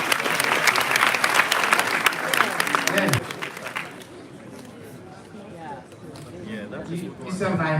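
A crowd at a town hall meeting on gender-based violence claps loudly for several seconds, then the applause fades into murmuring chatter and voices.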